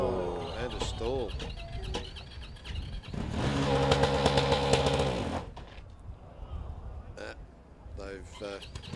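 A Formula SAE race car engine at a competition launch surges loudly for a couple of seconds, then cuts out abruptly into near quiet, with a commentator talking before and after.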